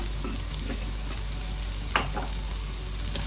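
Onions sautéing in a pan for a mutton bone curry, with a steady close sizzle, scraping stirs and one sharper clatter of the spoon near the end; no voices.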